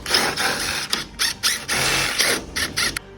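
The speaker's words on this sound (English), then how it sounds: "Take those 4 screws out and then we'll pull the shell down." Four screws are backed out of the plastic shell of a Genie ISD990 screw-drive garage door opener, giving a series of short whirring, ratcheting mechanical bursts with brief gaps between them, close up and without talk.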